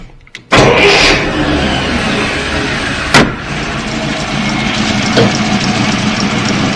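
A 1938 Buick Special engine starts up and settles into a steady idle, a loud close rumble with a couple of brief knocks or clicks partway through.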